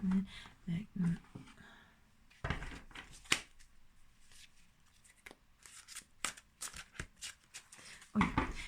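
Soft riffling and flicking of cards being shuffled, close and quiet, in short bursts between murmured talk.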